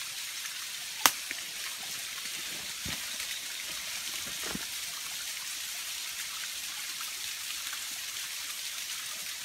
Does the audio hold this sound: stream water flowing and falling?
yes